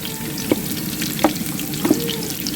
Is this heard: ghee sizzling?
yes